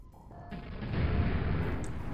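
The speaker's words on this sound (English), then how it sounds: "that was quite an explosion with those 4 balls there" A Quake video game explosion bursts out as a loud, broad roar that swells and then holds as a dense rumble, with a brief rising tone just before it.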